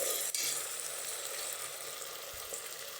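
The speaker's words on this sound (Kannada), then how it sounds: "ಅಲ್ಲಿ ತನಕ ನಾವು ಶುಂಠಿ ಬೆಳ್ಳುಳ್ಳಿ ಪೇಸ್ಟ್ನ ಫ್ರೈ ಮಾಡ್ಕೋಬೇಕು ಚೆನ್ನಾಗಿ" Ginger garlic paste fries in a pan for chicken biryani, giving a soft, even sizzle that holds steady throughout, fairly quiet and close, with one faint knock partway through and no talking.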